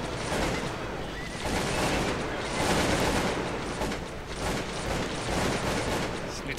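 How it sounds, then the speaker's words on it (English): Dense crackling volleys of musket and rifle fire from the Cossacks 2: Battle for Europe battle game, sustained rapid shots blending into a continuous fusillade, loud and busy throughout. "We are under enemy gunfire."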